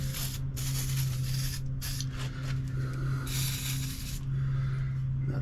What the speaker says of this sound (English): Let's do another spray.